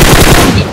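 Loud, dense burst of gunfire in a shooter video game, close and clipped, filling the short moment with harsh, continuous shooting noise.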